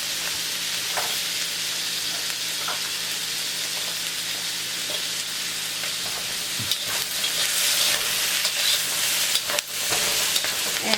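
Shrimp and carrots sizzle and hiss steadily in a hot stir-fry pan, with occasional scraping and stirring clatter growing busier toward the end.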